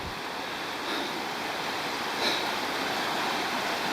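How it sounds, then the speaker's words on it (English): Strong river current rushes in a steady, loud broadband wash during a mountain bike river crossing on a Tasmanian trail tour, with no voices over it. "Here we are crossing the river."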